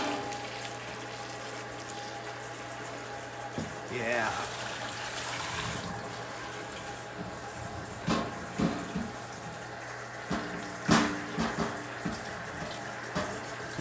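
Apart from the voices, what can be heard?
rinsing and filling a pot with water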